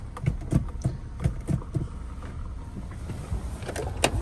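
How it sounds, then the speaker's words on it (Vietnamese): A 2011 Hyundai Avante with a 1.6L engine and manual gearbox idles quietly, a soft low steady hum with faint irregular clicks and knocks close by, no speech. "máy nổ cực kỳ êm luôn"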